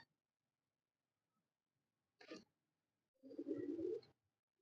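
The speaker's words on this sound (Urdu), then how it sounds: "یہ اسٹریٹ کندے کا کبوتر ہے" A street pigeon coos softly, a brief wing flutter or rustle first and then one low, throaty coo from close by on a rooftop, with near silence around it.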